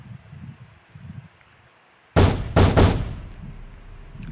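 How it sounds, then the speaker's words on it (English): A fist pounding hard on an apartment door, three loud, heavy thuds in quick succession after a quiet stretch of low murmuring, close and forceful. "He pounded on it as hard as he could."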